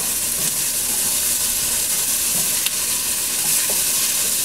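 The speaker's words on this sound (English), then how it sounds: "stir it around." Vegetables with a pinch of salt being stirred in a soup pot, a dense continuous sizzle with faint scraping of the spoon, close and steady with no voices.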